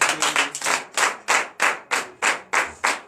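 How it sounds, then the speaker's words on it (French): A church congregation at a Thursday morning prayer service in Benin claps hard and together in steady, evenly spaced bursts of about three per second, loud and close, with no talking over it. "je vous demande d'applaudir très fort"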